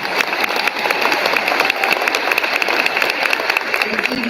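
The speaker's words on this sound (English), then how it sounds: "Let's give her one more round of applause." Steady applause from a crowd at an awards ceremony, dense clapping that holds at an even level throughout with no voices standing out.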